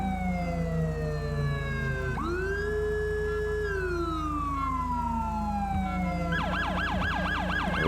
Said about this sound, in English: let's hit our Sirens. Okay, so this is the Rumbler.